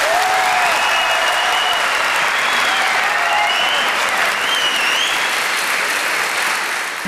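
Steady, dense audience applause fills a television talent-show hall, loud and continuous throughout with no gaps, tapering only slightly at the very end.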